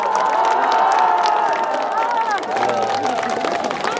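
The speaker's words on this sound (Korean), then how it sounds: "큰 박수로 맞아주시기 바랍니다." A crowd applauding and cheering to welcome politician Han Dong-hoon on a campaign visit to Sejong City, a continuous loud mix of clapping, shouts and voices with a sustained tone over it.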